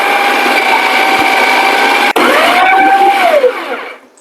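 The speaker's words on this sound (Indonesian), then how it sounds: "Oke, kita siap blender." A kitchen blender whirring loudly as it blends a tofu mixture for pepes, a steady high motor whine with a brief dip, then spinning down and stopping near the end.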